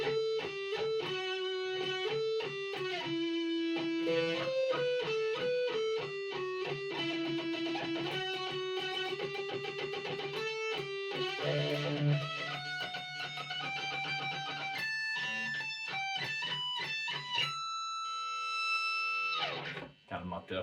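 Distorted electric guitar shreds a fast solo over the opening riff of a metal tune, dense sustained notes running without pause and loud throughout, ending on a held bend before stopping abruptly.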